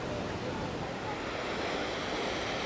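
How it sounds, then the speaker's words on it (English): Waterfall at McCloud Falls on the Oregon/California trip, heard from a viewpoint above the pool: a steady, dense roar of falling water that stays constant and fairly loud, with no talking. "Power of that water coming over."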